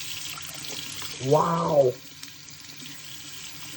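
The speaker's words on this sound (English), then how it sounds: "So we're gonna go rinse this off really quick." A dirty air compressor part is rinsed under a running tap, making a short splashing gush of water that lasts under a second. A faint background hum continues after it stops.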